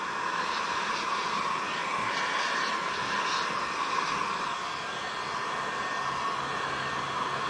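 A heat gun blows steadily while shrinking window tint film on a 2020 Ford Mustang, a continuous close airy roar with a constant hum, running unbroken throughout with no talk.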